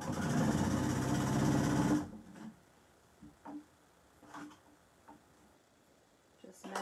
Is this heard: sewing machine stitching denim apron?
yes